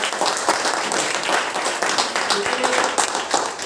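An audience claps loudly at a motivational talk in a continuous, dense burst of applause that runs the full length.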